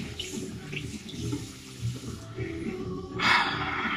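Tap water running in a sink to rinse shaving foam, a steady close wash of water that swells near the end.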